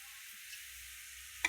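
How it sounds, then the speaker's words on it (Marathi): Curry starts to boil in a pot on the stove and gives off a faint, steady bubbling hiss close by. A small tick comes right at the end. "बघू शकता कशी उकळी यायला लागली बघा"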